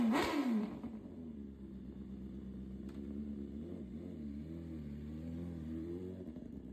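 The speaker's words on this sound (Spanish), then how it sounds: "muchas personas que prueban una tricilíndrica terminan enganchadas a ese tipo de motor" A three-cylinder motorcycle engine revs hard at first, then settles into a steady, fairly quiet idle with a low, even throb that swells slightly midway.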